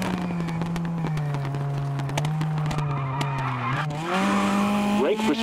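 A Hyundai i20 N Rally1 rally car in WRC Generations, on a Germany stage, with a steady engine drone as it brakes hard and skids. The engine pitch sags, then climbs again in a tire-scrubbing slide.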